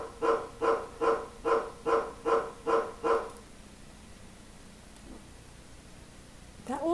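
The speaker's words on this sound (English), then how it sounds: "our dog will start walking and barking until we click Stop" Dog barking sound effect played in a Scratch program, eight evenly spaced barks in a quick regular rhythm, then quiet before another bark starts at the end.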